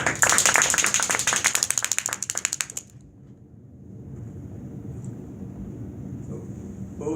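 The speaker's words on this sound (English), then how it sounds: "Let's give him a round of applause." A round of applause from a small meeting audience at a Table Topics speaking club, brisk close clapping for about three seconds that stops abruptly, followed by quiet room tone and faint movement.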